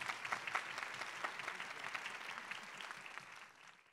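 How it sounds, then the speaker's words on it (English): A lecture audience applauds to welcome a debate speaker, a dense even wash of many hands clapping, soft and somewhat distant, fading slightly at the end. "Give him a round of applause, make him feel welcome."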